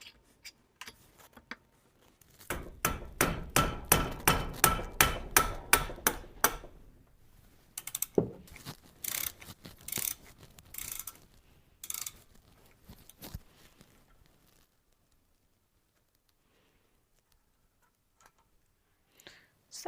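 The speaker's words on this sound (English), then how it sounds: "we're going to be removing these two bolts here" Bolts are worked loose from a rusty Subaru Brumby brake caliper clamped in a large vise. A ratchet wrench gives a fast run of close, rhythmic clicks, then scattered heavier clanks and clicks that fade into near silence.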